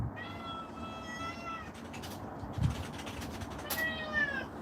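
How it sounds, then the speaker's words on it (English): A pet cat indoors in Wiltshire, England meows loudly and nearby, two drawn-out calls, one at the start and another near the end, with a faint thump between them. "My cat is crazy."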